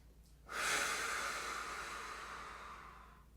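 A single long, breathy exhale during a bridge mobility exercise, close and steady, lasting about three seconds before tapering off.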